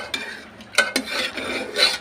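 Boiled ingredients being mashed together in a kadai: a few short scraping and clinking strokes of a utensil against the pan, close and irregular.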